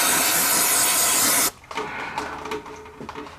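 Carb and choke cleaner sprays from an aerosol can in a loud, steady hiss lasting about a second and a half, then cuts off, leaving quiet clinks and handling noises around an engine bay.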